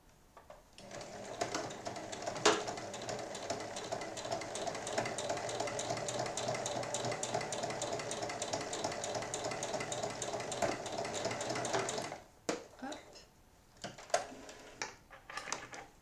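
A sewing machine stitches a small point about 1 mm from the edge to close a fabric cheque book cover, running in a fast, steady rhythmic chatter for about eleven seconds, then stopping and giving way to a few handling clicks.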